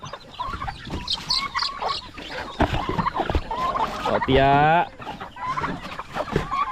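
A chicken clucks amid talking voices on a farm, with one louder drawn-out call standing out near the end over the chatter.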